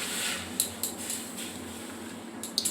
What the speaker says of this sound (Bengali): এই যে আমি একটা স্টিলের বাটির মধ্যে ঢেলে নিচ্ছি জলটা